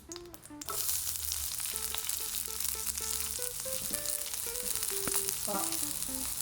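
Peppers and onions frying in oil for restaurant-style mushroom rice, a steady close sizzle running throughout with background music over it.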